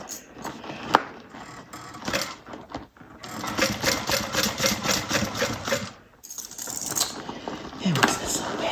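A sewing machine stitches a fabric bucket bag in rapid, steady mechanical bursts. The runs stop and start with brief pauses between them, close and clear.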